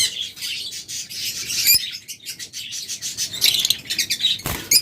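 Caged pet lovebirds in a bird shop chirp in rapid, overlapping bursts, bright and close, with a few sharp clicks and rustles in between and no talking.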